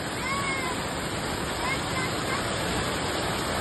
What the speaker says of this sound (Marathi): हे बघू शकता आपण किती चांगल्या प्रकारचे धबधबे आहेत.